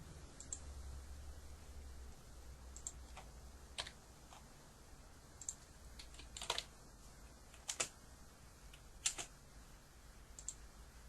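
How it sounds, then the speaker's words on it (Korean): Scattered computer keyboard keypresses, about a dozen sharp clicks spaced irregularly over a quiet low hum, as a name is entered in a naming-certificate printing program. "키를 눌러서"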